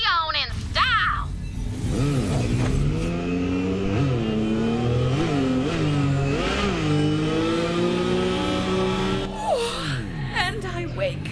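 A vehicle rides across the planet Necrotafeo in Borderlands 3, its engine droning and rising and falling in pitch as it revs and shifts steadily over the whole stretch, loud and close, with a voice exclaiming briefly near the start.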